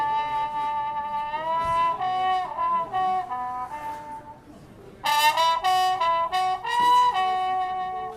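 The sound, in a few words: trombone played with a solo tone mute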